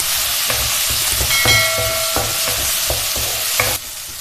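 Chopped tomato and curry leaves sauté in hot oil with a loud close sizzle, broken by repeated spoon scrapes and metallic clinks against the pan.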